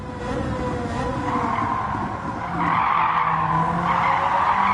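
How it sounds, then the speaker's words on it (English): In Gran Turismo 7, a car brakes hard and its tyres skid, a continuous harsh squeal over engine roar that holds steady and then grows louder partway through. No one talks. "Now the brakes on."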